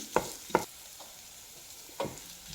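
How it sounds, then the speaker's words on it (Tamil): Curry leaves sizzle and are stirred in a hot pan with onion, ginger and garlic, with three sharp bursts of scraping or frying crackle over a low steady hiss. "ஒரு கொத்து கருவேப்பிலை போட்டு வதக்கிக்கலாம்"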